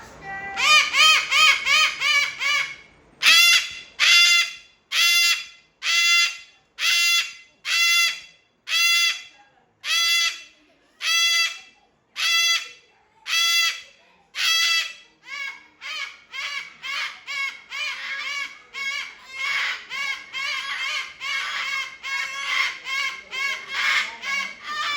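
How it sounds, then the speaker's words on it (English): Cockatoos at a rainforest attraction give a long series of loud, harsh screeching calls close by, evenly spaced at first, then coming faster and overlapping toward the end. "Cockatoos."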